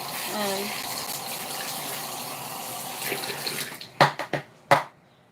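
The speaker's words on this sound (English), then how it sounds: "So I have some soap on it, cleaning it off, letting it air dry with some hot water." Hot water running from a tap while soap is rinsed off makeup brushes, a steady close splashing flow that gives way to a few sharp knocks and clatters near the end.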